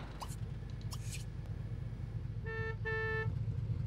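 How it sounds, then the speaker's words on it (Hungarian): A car horn in The Sims video game honks twice in quick succession, short and clear, over a steady hum of game background sound with no talking. "De miért dudál?"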